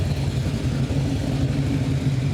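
A deep, throaty V8 engine in a Holden VH car rumbles steadily at close range, its low growl rising and falling slightly as it revs.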